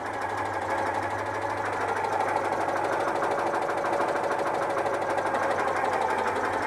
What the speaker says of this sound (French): le ralenti n'est pas très rond, mais bon, elle est pas non plus chaude